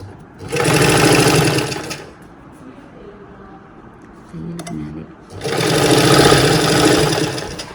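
Sewing machine stitching saree fabric with a lining cloth for an anarkali dress, running in two loud continuous bursts of whirring stitches with a quieter pause between them.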